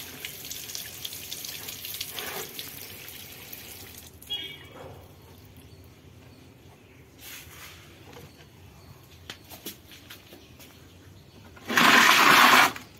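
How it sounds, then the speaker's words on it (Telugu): After a long quiet stretch with faint background sounds, water pours loudly into a pot of plumeria cuttings for about a second near the end. "కొంచెం వాటర్ వేస్తున్నాను"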